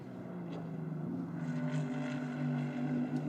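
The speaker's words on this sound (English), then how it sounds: "Just listening to the sound of the 296 Challenge cars." Ferrari 296 Challenge race cars drone as a steady engine note at the twisty final sector of the Le Castellet circuit, heard from a distance, fairly faint, with the pitch rising and falling a little.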